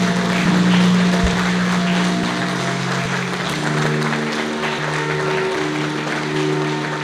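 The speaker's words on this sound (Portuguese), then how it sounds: "Pode aplaudir o Senhor, Senhor." A church congregation applauds together at the close of a prayer, a dense, steady wash of clapping that holds at an even level for several seconds while sustained organ or keyboard tones sound beneath it.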